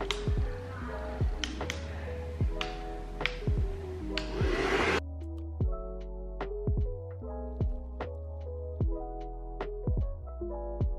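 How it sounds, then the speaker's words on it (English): Hair dryer blowing a woman's hair dry with her head flipped upside down, a steady close whir for about five seconds that cuts off, followed by soft taps and handling noises. "I'm gonna flip my hair over and blow dry it down."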